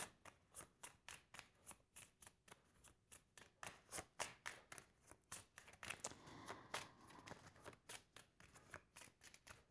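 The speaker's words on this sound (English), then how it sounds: "One more shuffle." Tarot cards are shuffled in a long run of quick, crisp riffling snaps with a steady rhythm, close up and with no voices.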